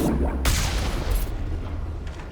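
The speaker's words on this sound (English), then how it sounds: "What do you reckon to this cannon that I have?" A heavy cannon firing in Mass Effect, delivering a deep booming blast with a sharp crack near the middle of a short stretch of rumbling battle noise, loud and close.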